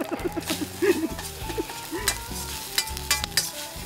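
Simple fried rice being stir-fried in a wok over a campfire in a Coleman stainless steel fire pit outdoors: repeated scraping stirs and clanks of the spatula against the wok over a light sizzle, close up and irregular.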